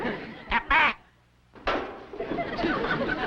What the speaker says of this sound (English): It's Uncle Joe's minor bird.